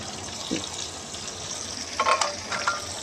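Red chilli, coriander powder, salt and cloves fry in a pan for mash daal, a steady close sizzle with a few stirring scrapes and clinks, no talk.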